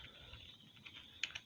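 Code being typed on a computer keyboard, soft close key clicks in a quick irregular run, ending with two sharper louder keystrokes.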